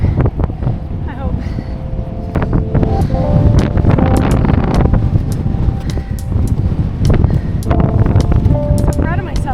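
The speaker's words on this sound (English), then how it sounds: "Literally headwind, side wind, all the wind, tornado wind" Strong headwind during a gravel bike race roars and buffets the microphone continuously, loud and close, while a rider talks breathlessly over it.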